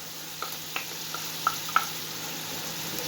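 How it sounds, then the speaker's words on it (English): Fish chop suey with added spice being stirred in a pot, with soft sizzling throughout and several light spoon clinks against the pot at irregular moments. "We're adding our special spice and stir."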